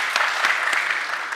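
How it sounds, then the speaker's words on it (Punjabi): Audience applause at a live stage drama performance, a steady dense wash of clapping with a few sharper claps standing out, loud and close, with no talk over it. "ਉਹਨਾਂ ਦੀ ਤਾੜੀਆਂ।"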